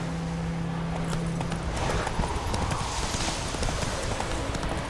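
A horse's hooves clip-clop steadily in The Witcher 3 video game, a close, even rhythm of hoof strikes over continuous outdoor game ambience.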